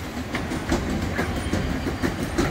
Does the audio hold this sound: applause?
no